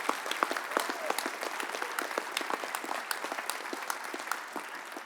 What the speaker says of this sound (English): Conference will applaud their courage and their resilience